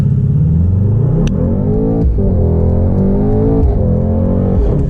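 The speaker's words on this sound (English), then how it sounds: "All right, so we'll do a little acceleration here. All right, it'll automatically put us first gear, and we'll accelerate." Mercedes AMG GT 63 accelerating hard from first gear, its engine rising in loud, close revs with a quick gear change and climbing again, heard from inside the car.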